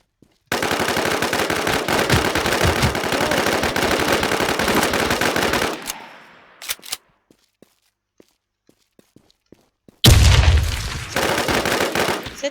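Loud automatic gunfire in the video game WarZ rattles in a long, dense burst. It cuts off into near silence with a few faint taps, then erupts again with heavy impacts and more rapid fire.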